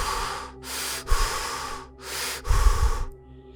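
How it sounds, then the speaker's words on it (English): Heavy, raspy breathing of a demonic phantom from the Dark Deception horror game, with several loud, close, drawn-out breaths that rasp in and out in a slow, uneven rhythm and no talk over them. "the heavy breathing, which grew louder and more raspy by the second"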